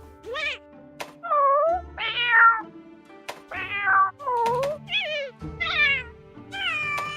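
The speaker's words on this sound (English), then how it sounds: "Why does this cat sound so upset?" Palico cat companion in the Monster Hunter Rise video game meowing, several distinct close meows in sequence with short gaps and a thump, mewing rising and falling in pitch.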